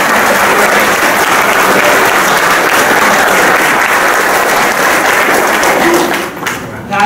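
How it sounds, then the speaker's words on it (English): A large audience at a civil-rights event bursts into loud, dense applause that holds steady for several seconds before dropping off abruptly at the end. "another round of applause for our Lola"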